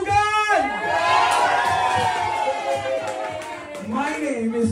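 Party crowd at a family year-end celebration whooping and cheering loudly and continuously, with shouting voices and possible clapping mixed in throughout.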